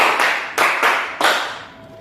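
Junior high students in a classroom play a counting clap game, giving a few loud, crisp group claps with short gaps between them, each ringing briefly before fading.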